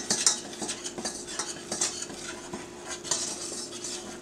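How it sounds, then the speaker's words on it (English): A whisk scrapes and clinks steadily against a pan while a paste cooks for lobster cutlets, making a rhythmic metallic stirring over a soft sizzle that stays close and even throughout. "We're gonna continue to whisk it while it's cooking."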